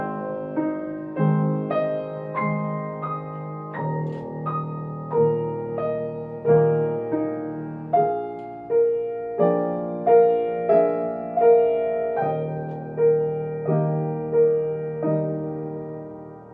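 A Chopin waltz played on solo piano at a slow tempo of about 84 beats per minute, with clear repeated bass notes and chords under a singing melody, steady and unaccompanied.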